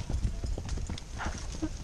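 A horse's hooves thud in quick, uneven clusters while the horse canters over a run of jumps. The hoofbeats sound close, and a rider's voice breaks in briefly over them.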